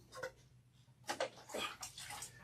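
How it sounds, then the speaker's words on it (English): Running water rinses shampoo out of hair during a clarifying wash, a soft splashing stream with brief swells, faint and close. "wash out the shampoo"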